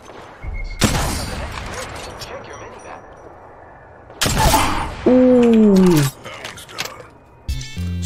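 A Sentinel sniper rifle fires in a video game, two sharp loud shots several seconds apart, each ringing off into a long tail, with other game sounds and a tonal whine between them.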